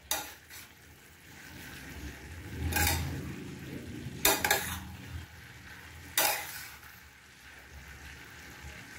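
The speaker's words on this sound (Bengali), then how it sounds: "দিয়ে ভালো করে নাড়াচাড়া করে নেব।" A banana flower curry with coriander powder and green chillies being stirred in a pan, a low simmering hiss broken by three loud, harsh scraping bursts of a spoon against the metal, with no talking.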